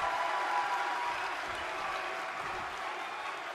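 Steady, dense crowd cheering and applause fills a wrestling arena in WWE 2K23, a constant roar that stays loud throughout without pause.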